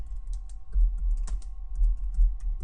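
Keystrokes on a computer keyboard as a Stata command is typed, a quick irregular run of close, crisp clicks over a steady low hum, with no talk.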